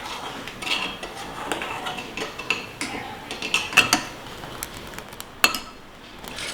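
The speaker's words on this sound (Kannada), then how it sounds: "ಈಗ ಮೀಡಿಯಂ ಫ್ಲೇಮ್ನಲ್ಲಿ ಒಂದು 3 ನಿಮಿಷ ಇದನ್ನು ಈ ರೀತಿ ತಿರುಗಿಸ್ತಾ ಕುದಿಸ್ಕೊಳ್ಳೋಣ." A spoon clinks and scrapes irregularly against a pot of boiling sugar syrup on a medium flame, with soft, scattered metallic taps and a few sharper knocks, fairly quiet and without talk.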